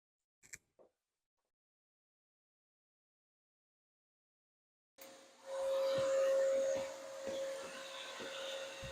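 A vacuum cleaner starts up and drones steadily during wall building work, with a faint clatter at the start and tapping and scraping from rasping the wall under the whine.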